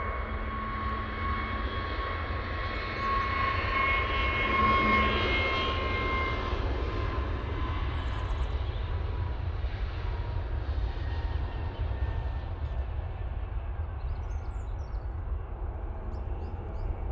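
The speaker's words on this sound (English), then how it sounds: "we're going to get this Aer Lingus from Dublin coming in" An Aer Lingus airliner from Dublin comes in to land at Manchester Airport, a loud steady engine roar with a high whine that swells and then slowly fades, heard alone without talk.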